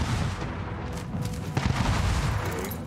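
Ship cannons firing during a naval battle in Anno 1800: a dense, rumbling barrage of booms and cracks, with a sharper burst partway through and sustained loud firing afterward, with no talking.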